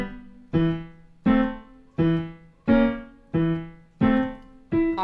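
A piano plays a slow phrase from Tchaikovsky's Dance of the Sugar Plum Fairy, seven evenly spaced single notes that each ring out and decay, played alone and close with no voices.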